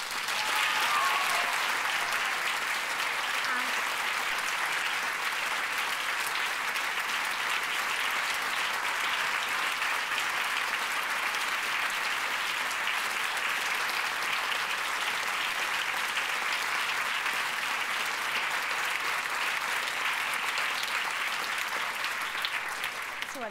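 Sustained, dense applause from an audience at an award ceremony, a steady even roar of many hands clapping without pause throughout.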